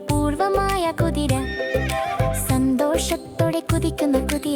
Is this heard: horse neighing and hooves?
yes